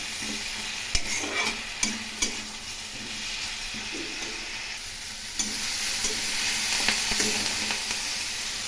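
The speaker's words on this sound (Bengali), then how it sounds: "খুব ভালো করে মশলা এবং আলু কষিয়ে নেব।" Spices and potatoes are stirred and fried in a pan for a vegetable rice dish with fish head, giving a steady sizzle with scraping spoon strokes and a few sharp clinks against the pan.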